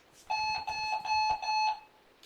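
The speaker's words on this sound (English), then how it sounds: "Yes, I do use multiple alarm clocks." An alarm clock rings in a steady pulsing electronic tone, several rapid bursts repeating for about a second and a half, loud and close with no other sound around it.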